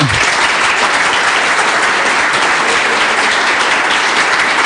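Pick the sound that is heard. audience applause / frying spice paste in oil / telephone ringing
audience applause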